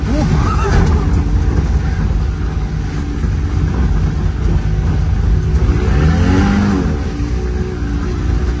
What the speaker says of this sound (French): Dès que tu mets les gaz, ça patine. Trop de puissance.